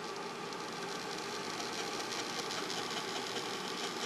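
A model train locomotive with a sound decoder running in place on track held by thumbtacks, giving a steady, even engine drone with a buzzing, idling character, close and continuous with no pauses.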